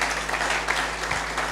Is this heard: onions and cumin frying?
no